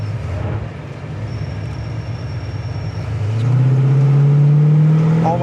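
A 1969 Chevrolet Chevelle SS engine idles, then revs up and pulls away with a rising, throaty roar, loud and close.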